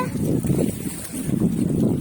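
Afternoon wind gusting by a riverbank, a steady low rumble and buffeting against the microphone, loud and close, swelling and easing over two seconds, with no voices.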